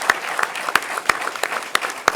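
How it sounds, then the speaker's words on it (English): A few people at a state commission report event clap sparsely, several distinct sharp claps spread out over about two seconds at moderate level, with no voices. "Let's give him a round of applause, Eric Schmidt."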